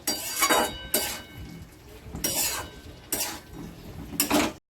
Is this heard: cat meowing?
no